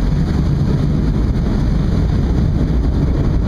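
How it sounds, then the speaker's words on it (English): A steady, loud rumble of a boat turning on the water in New York, with wind buffeting the microphone and a constant low engine drone. "The boat is now turning."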